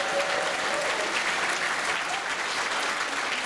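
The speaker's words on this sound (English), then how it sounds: "a little special heads up and clap for those guys." A banquet audience at a gaming convention breaks into steady, dense applause, many hands clapping together at an even level throughout without a break.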